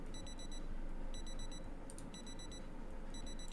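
Digital watch alarm in Project Zomboid beeping in repeated bursts of four quick high tones, with short pauses between bursts, over a steady low rumble of game ambience.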